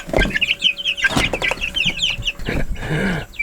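Cornish cross chickens cluck and chatter close by in a busy flock, a dense mix of short overlapping clucks with a few thumps and rustles mixed in.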